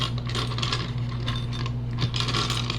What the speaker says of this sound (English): we're going to pick out a dice